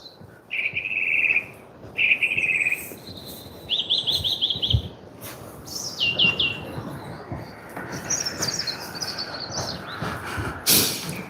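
Several birds sing and chirp outdoors on a cold UK morning walk, with repeated bright trilling phrases coming and going over a faint background hiss, no voices.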